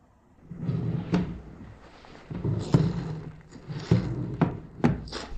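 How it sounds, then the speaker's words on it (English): Wooden drawers and cupboard doors in an abandoned chalet are opened and shut, giving a series of knocking thunks and sliding scrapes with several sharp clacks, close and moderately loud, with no talking. "Let's open a drawer."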